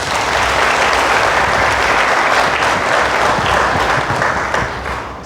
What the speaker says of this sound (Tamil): அதுக்கும் இப்போது கைத்தட்டுங்க பார்க்கலாம்